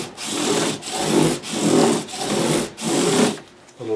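Close, even rasping of wood being sanded by hand with emery cloth, five rhythmic back-and-forth strokes at steady loudness before trailing off at the end.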